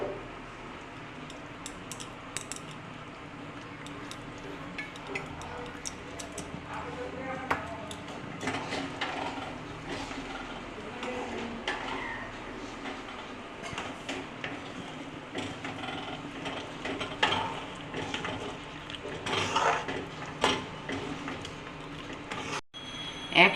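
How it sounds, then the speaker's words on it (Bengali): Rice payesh being stirred in a pot, with continuous scraping and clattering of a utensil against the metal, fairly loud and busy throughout, ending in a sharp knock. "আবার নাড়ছি।"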